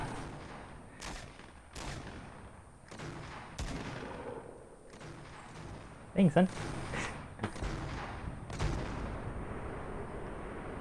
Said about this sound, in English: I just hear so many gunshots